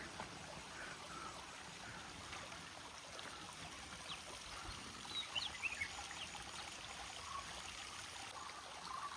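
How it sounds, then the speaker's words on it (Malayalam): A small stream of cold water trickles over rocks near Kuttikkanam, a soft continuous burbling wash heard faintly and steadily with no talking and only a few faint chirps. "ഇവിടെ ഈ പാറപ്പുറത്തുനിന്നൊക്കെ വെള്ളം ഒഴുകുന്നു"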